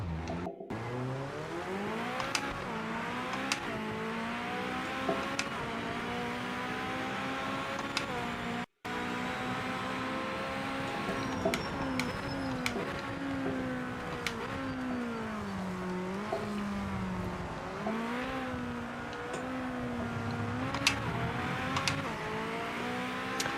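Race car engines in a racing game rise and fall through the gears in a continuous loud drone, revving up and shifting repeatedly as the cars accelerate.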